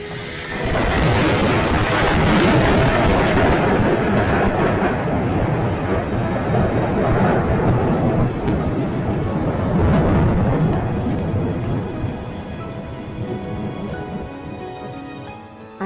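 Thunder during a storm rumbles continuously as a deep, loud roll, mixed with wind and rain noise around a robin's nest on a porch, gradually easing toward the end.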